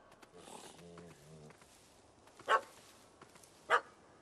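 Two short, sharp dog barks ring out apart from each other in a Witcher 3 game scene where a dog has chased a cat up a tree, after a stretch of quiet, muffled game speech.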